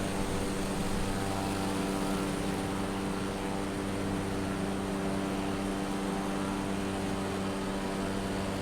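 Light aircraft engine droning steadily in flight over the coast near Inverness, a constant close, loud propeller hum with no break and no voices.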